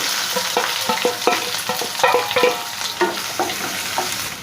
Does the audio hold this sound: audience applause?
no